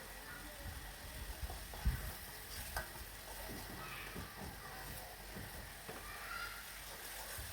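A spoon stirs vegetable soup base with salt and powdered broth in a hot pan, soft scrapes and faint sizzling with occasional clinks, quiet and close, while a person talks over it.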